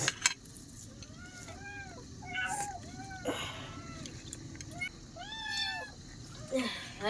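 Several cats meow repeatedly and insistently at close range, overlapping rising and falling calls, while someone talks over them near an outdoor brick cooking stove.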